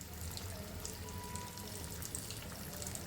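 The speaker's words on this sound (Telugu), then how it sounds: "ఇంకా మనం ఓపిక్గా వేయించుకుంటే కలరు బాగా వస్తుంది, ఇంకా లోపల ముక్క కూడా ఉడికిపోతుంది." Chicken pieces deep-frying in hot oil for homemade crispy KFC-style fried chicken, giving a steady, dense sizzle and crackle that continues evenly throughout with no voices.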